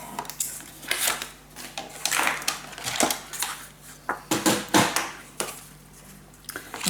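Paper for a scrapbook mini album being cut with a series of short, close crisp snips and rustles in an irregular rhythm, with quiet gaps between cuts.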